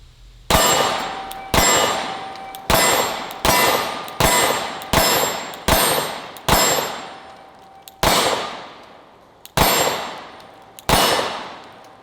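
A Sig P365 XL pistol with a Romeo Zero sight fires about eleven sharp, loud shots in a steady paced string, each crack ringing out and decaying before the next, with no talk.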